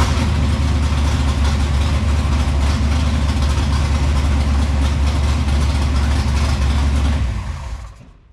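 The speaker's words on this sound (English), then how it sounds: "But if I short out the solenoid here, it fires." An engine that fires and runs once the starter solenoid is shorted out, a loud steady rumbling idle close to the microphone that holds evenly and then cuts off abruptly near the end.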